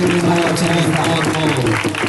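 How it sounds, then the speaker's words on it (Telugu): Loud, dense applause from a church congregation, steady wall of clapping throughout with crowd noise mixed in. "చప్పట్లు వేసారు గట్టిగా చప్పట్లతో గట్టిగా వేసారు చప్పట్లు కొట్టి"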